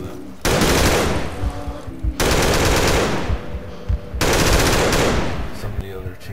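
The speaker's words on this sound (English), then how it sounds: "here you see the German machine gun. Newest game. Let's hear a couple rounds go off of that." A German MG42 machine gun fires in a video game, three long sustained bursts of rapid, loud automatic fire separated by brief pauses.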